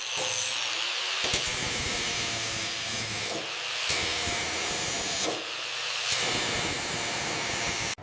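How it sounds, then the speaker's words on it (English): Bursts of crackling buzz from MIG welding tacks on thin metal, on a Thomas Flyer body panel, repeat in a steady rhythm, separated by short gaps, loud and close, with no voices. "we apply the MIG weld in short, controlled tacks"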